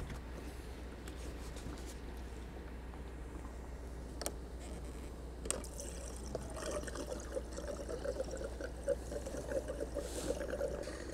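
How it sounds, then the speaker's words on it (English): Jet fuel trickles and pours into the crankcase of an old abandoned airplane engine, mixing with the oil in a soft, uneven gurgle over a low steady hum, with a few sharp clinks. "we're gonna put as much of this jet fuel down inside the crankcase, down inside with the oil, as will fit"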